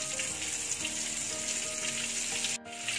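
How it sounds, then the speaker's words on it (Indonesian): Cumin seeds frying in a little cooking oil for a prawn biryani, a steady close sizzle and crackle that runs evenly, with a brief drop near the end. "Tumiskan jintan putih."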